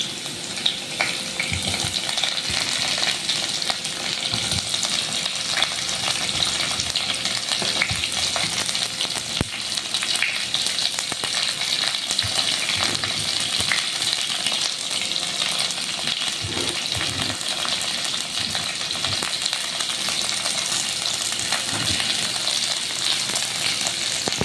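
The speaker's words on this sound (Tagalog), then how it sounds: "Sabay na rin po natin yung ating bawang at sibuyas." Garlic and onion sauté in a hot pan, a steady dense sizzle and crackle lasting throughout with scattered clicks and scrapes of a stirring utensil, close and loud with no voices.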